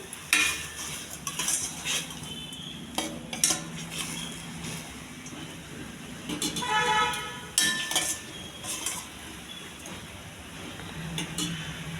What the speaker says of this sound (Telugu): మసాలా పట్టేంత వరకు బాగా కలపండి